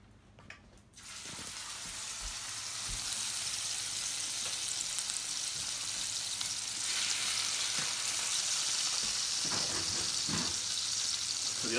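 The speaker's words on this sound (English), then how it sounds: "I'm going to just sear these" Steaks, fatty cuts reverse-seared, hit a hot pan and sizzle loudly and steadily from about a second in, a dense continuous frying hiss with small pops and clinks throughout, no one talking.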